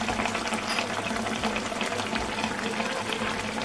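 Baby rohu fish curry simmers in a pan, a soft, steady bubbling and fizzing that carries on evenly throughout, faint and close with no talk.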